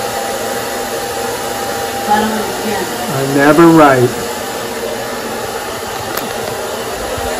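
Hair dryer blowing hot air onto removable waterproof contact paper on a kitchen cabinet, a steady close whirring hiss that runs throughout while voices talk over it.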